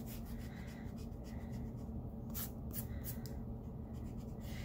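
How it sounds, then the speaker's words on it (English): A pencil horizon line is rubbed out with an eraser on paper, producing faint, close, dry scrubbing strokes in quick irregular bursts with no talk. "and we could go back and erase it."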